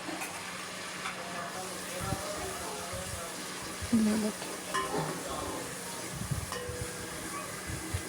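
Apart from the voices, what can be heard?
spices frying in hot ghee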